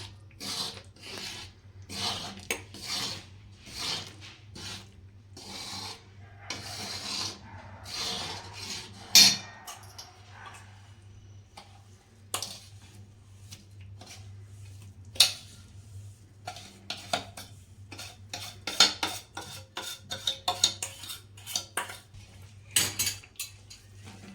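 Edible gum being stirred into melted jaggery in a pan, heard as repeated rasping scrapes of a spoon against the metal pan in uneven bursts, with no talking.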